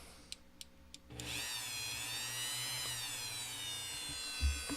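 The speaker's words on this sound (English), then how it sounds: "you can absolutely do precision drilling with a rotary tool" A high-pitched rotary tool whines steadily after a few light clicks, its tone shifting slightly as it bores into plastic, close and continuous.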